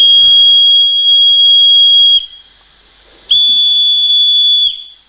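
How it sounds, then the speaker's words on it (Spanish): A loud, piercing steam whistle on a miniature steam engine sounds in two long blasts separated by a short pause, shrill and close. "También tenía un silbato que era para llamar al personal cuando había vapor suficiente."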